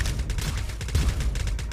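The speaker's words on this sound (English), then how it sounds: "our LMG is not particularly accurate, but it does shoot lots and lots of bullets" Light machine gun in a sci-fi team shooter video game firing a continuous rapid burst, dense and loud with no break, booming low end throughout.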